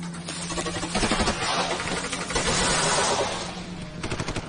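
Sustained machine gun fire in a film battle scene rattles in rapid bursts over rumbling engine noise and chaotic background sound, loud and dense throughout.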